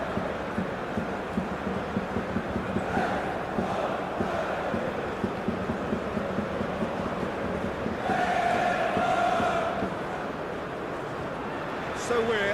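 A capacity stadium crowd at a Champions League football match between Bayer Leverkusen and Arsenal in PES 21, a continuous roaring murmur that swells in places, with talk over it.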